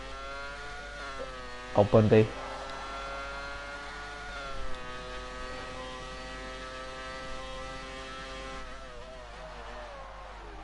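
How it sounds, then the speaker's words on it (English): An onboard racing car engine in a classic racing game set in Austria drones and shifts pitch steadily, with a brief loud burst early on and a short spoken exclamation over it. "let's just go on board and listen to the car"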